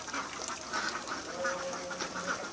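Ducks quacking in short, nasal bursts at a moderate distance, sheltering indoors from rain at a village pond, several calls overlapping against faint background noise.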